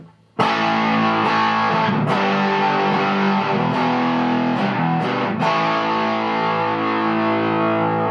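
An electric guitar plays through a modded Boss DS-1 Penguin distortion pedal, heavily driven, with sustained chords and a few sharp re-strikes ringing out loud and alone.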